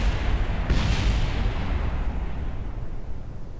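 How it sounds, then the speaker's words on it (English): A video-game explosion in Kerbal Space Program: a loud, deep boom bursts in just under a second in and rolls into a long, heavy rumble that fills the rest of the clip. "that was an explosion."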